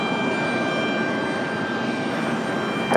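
A Delta airliner landing on runway 23 left at Raleigh-Durham airport, its steady broadband jet roar holding level and fairly loud throughout, with a brief louder burst right at the end.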